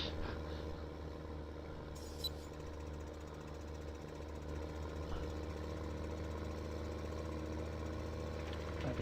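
A tractor engine in the video game Farming Simulator 15 runs with a steady, rattly, knocking drone, even and continuous throughout, quiet with no talk.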